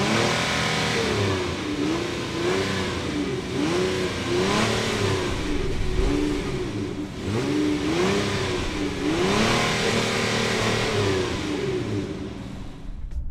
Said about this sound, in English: So let's go ahead and see what this V6 sounds like.